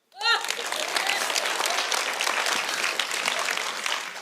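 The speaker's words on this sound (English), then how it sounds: "You can applaud that." A conference audience at a talk on Jewish community centers breaks into applause, starting abruptly and holding as a steady, full wash of clapping from many hands for several seconds.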